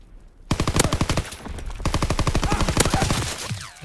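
Rapid automatic gunfire in Call of Duty WWII rattles close and loud in long bursts of sharp, evenly spaced shots, with brief pauses between strings.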